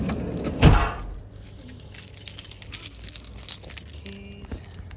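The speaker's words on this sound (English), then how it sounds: "Keys." A bunch of keys jangles beside a car: one sharp, bright metallic rattle, then quieter clinks and shuffling over a low vehicle hum.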